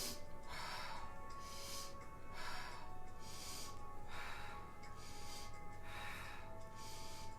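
Fast rhythmic breathing exercise during a warm-up, drawing in through the nose and pushing out through the mouth, with about six close, steady breath cycles over a constant background hiss.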